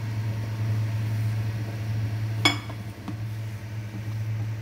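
A spoon stirs soft boiled potatoes with spices in a metal pot, giving one sharp clink and a fainter knock over a constant low hum.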